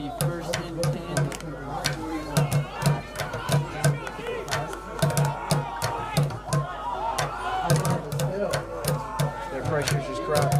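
Crowd noise at a high school football semifinal between BRS and Christchurch, a steady roar of cheering fans with sharp claps and shouts throughout, heard under a commentator's talk.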